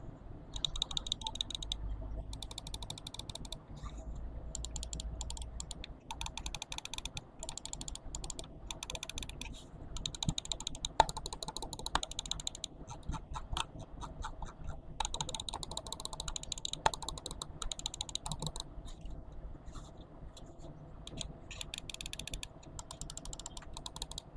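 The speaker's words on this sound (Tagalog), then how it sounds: "a quick sound test lang muna tayo before anything else. So nilapit ko yung mic dito sa aking mouse." A Zaopin Z1 Pro egg-shaped computer mouse is clicked close to the microphone, producing sharp crisp clicks in rapid bursts and irregular runs over about twenty-four seconds, with brief pauses between groups.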